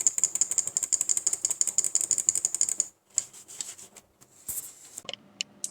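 Rapid clicking of a Microsoft Wired Desktop 400 mouse button, recorded about 10 cm above the mouse, crisp and close, in a dense run that stops, then resumes as sparser scattered clicks.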